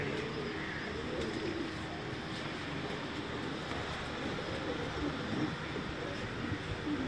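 Pigeons coo softly on a Karachi rooftop under a steady wash of background noise, their low calls blending in and out without clear breaks; nobody speaks.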